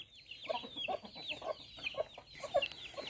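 Poedeira Negra hens and chicks cluck and peep close by in a farmyard, a busy run of short overlapping calls with high chick cheeps above the lower clucks.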